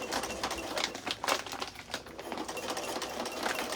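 A sewing machine stitches feed sack fabric in a steady, close, rapid mechanical chatter that runs continuously with slight speed surges and no talking.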